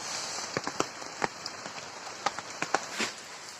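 Rain falls steadily onto surfaces in a continuous hiss, with scattered sharper drops and taps breaking through at irregular intervals, heard from close by with no voices.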